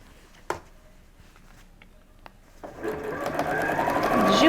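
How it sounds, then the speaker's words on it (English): A sewing machine stitches up the shoulder seam of a homemade isolation gown, starting after a couple of light clicks and building into a steady, close whirring run that grows louder toward the end. "Oh, this new sewing machine, I just love that it automatically backs up on me."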